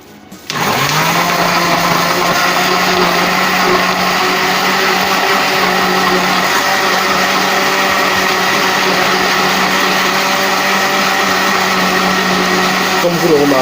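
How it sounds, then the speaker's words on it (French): A kitchen blender mixes banana, beetroot and milk into a milkshake with a steady, loud whirring drone that starts abruptly and runs continuously without a break. "Et vous mixez tout simplement."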